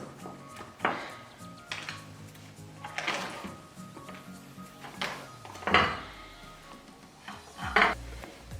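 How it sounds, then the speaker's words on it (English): A knife cuts through cold, still-frozen margarine for scone dough, giving a few distinct scraping, knocking strokes against a board or bowl amid faint kitchen clatter, with no talking. "I'm using a knife to cut it"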